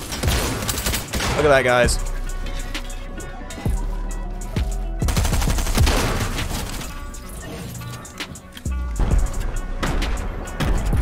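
Striker SMG fire in Fortnite Chapter 3, rapid bursts of shots recurring across the clip amid game effects and music, while someone talks over it.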